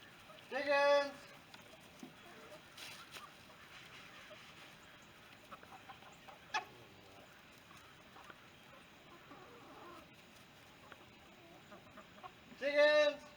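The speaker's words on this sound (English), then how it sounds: "Come on, chickens!" Faint background with two loud bursts of chicken clucking near the start and end, from a laying flock, with scattered small noises between.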